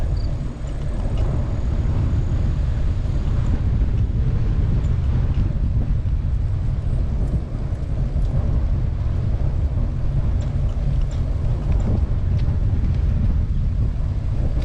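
Gusty wind buffets a microphone on the Root River Bike Trail as a rider faces a headwind, a steady, loud, low roar lasting the whole stretch with no talk.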